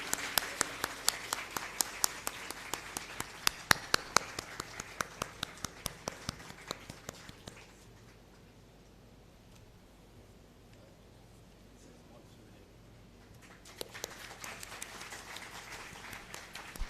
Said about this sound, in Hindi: अच्छे से तालियां बजाओ यार